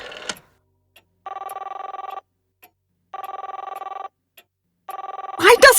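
An old-style telephone bell rings in a radio drama, three evenly spaced ring bursts separated by silence, clear and close, before a voice cuts in at the end.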